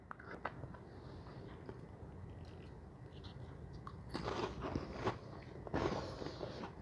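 Someone eats a creamy million dollar touchdown dip made with mayonnaise and green onions, with faint, close chewing and a couple of louder crunchy bites near the end, with no talking.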